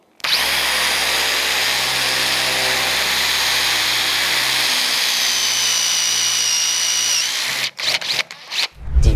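A power drill whines loudly and steadily for several seconds while boring into wood, then sputters and stops in a few short bursts.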